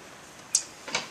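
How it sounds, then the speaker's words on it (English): Two sharp hammer strikes on nails ring out from roofers working nearby on a hot morning, spaced about half a second apart and fairly faint against a quiet background. "some roofers back there nailing it up"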